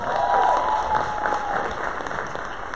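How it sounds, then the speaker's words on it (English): An audience at a Durham Public Schools evening event applauds a panel of gentlemen, steady, dense clapping that fills the room and holds throughout, with a faint tonal whistle early on. "Let's give these gentlemen another round of applause."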